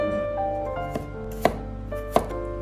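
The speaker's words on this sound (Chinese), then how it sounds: "将大蒜切成薄片" Knife slicing four garlic cloves into thin slices on a cutting board, a few sharp distinct chops spaced out over a second or so, close and clear against a steady background hum.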